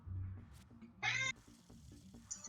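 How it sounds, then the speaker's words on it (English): An orange cat lets out a single short, bright meow, fairly quiet against a low background hum. "He go meow."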